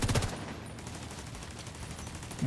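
Turret gunfire in a video game comes as short, sharp bursts of rapid shots at the start and again at the end, separated by a quieter stretch of background noise.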